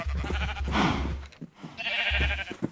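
Sheep in a Mine The Sky farm game bleat in two clear, wavering calls close by, with a steady low hum underneath and no talking.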